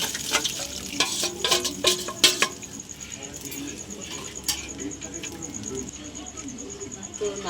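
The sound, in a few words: stirring milk with green chillies in a pan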